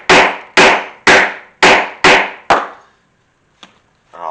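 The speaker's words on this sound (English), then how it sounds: "I'll punch my hole in there." A 5/8 inch hole punch is struck repeatedly with a mallet to cut through a leather guitar strap, with six loud, evenly spaced thuds followed by a couple of softer taps.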